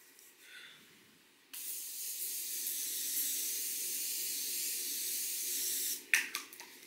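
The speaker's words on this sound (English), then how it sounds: "I like to just do like a quick spritz on my face" A quick spritz of face mist sprayed onto the face before touching up makeup, a steady close hiss lasting about four and a half seconds, followed by a few faint rustles.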